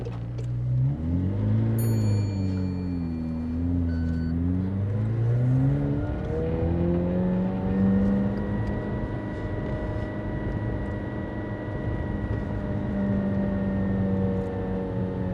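A supercar pulls away at low speed and stays in first gear during a mock driving test, its engine note droning and rising then settling into a steady hum, close and continuous with no talking.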